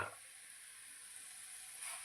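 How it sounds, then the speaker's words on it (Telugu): Boiled chana dal tipped into cabbage frying in a pan, giving a steady close sizzle with a brief rustle of stirring at the start and a faint swell near the end, no voices. "మనం ముందుగా ఉడకబెట్టుకున్న శనగపప్పు వేసేస్తున్నాను"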